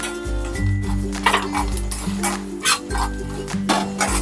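Cashews, poppy seeds and white sesame dry-roast on a hot tawa over very low gas, giving faint close stirring scrapes and light clinks beneath a humming background, with no talk.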